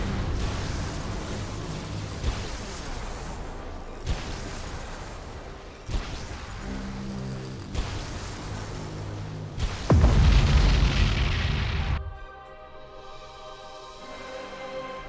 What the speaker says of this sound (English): Two gigantic supernova level explosions mark the end of the Orcs.